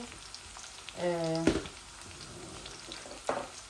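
Garlic sizzling in hot oil in a pan with a red chilli, a steady close crackle with a brief clatter of stirring, alone without talk.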